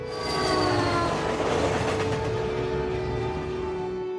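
A train rolls along its rails in a film scene, giving a loud, steady rumble and clatter with a sustained tonal hum, continuous for the whole stretch and with no voices.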